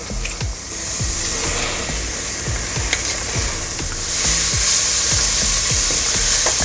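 Minced garlic hits a hot pan of red beans and rice base and sizzles loudly and continuously, with a few scraping stirs and the hiss swelling near the end.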